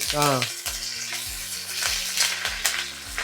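Halved onions and curry leaves hitting a hot pan for a home-style chicken mandi, a close sizzle and scraping stir heard under a voice with a short tonal sound at the start.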